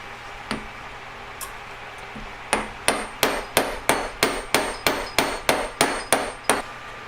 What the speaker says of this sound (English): I'm just going to hammer it flat now